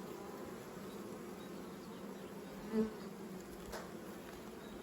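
A dense, continuous buzzing of a honey bee swarm at a hive hums evenly throughout, with a brief closer buzz passing by near the middle.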